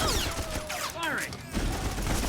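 Blaster fire in Star Wars: The Old Republic: a quick burst of energy-weapon shots with swooping, zipping tones, mixed with game effects and ambient combat noise, loud and close, with voices around it.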